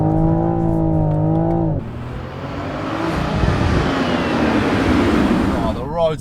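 A Toyota Supra drifts on a mountain road. A steady engine note gives way to a loud, close rush of engine and tyre noise that swells and holds before easing at the end.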